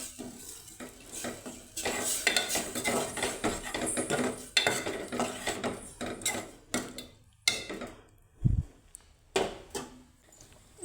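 Mashed dal being stirred into drumstick sambar in a pot, with scraping ladle strokes, metal clinks against the pot and a soft sizzle, irregular and close, no talking.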